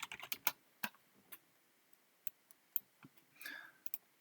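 Typing on a computer keyboard: a scattered run of quiet, crisp key clicks with uneven gaps and a short burst near the end, faint and close, with no voices.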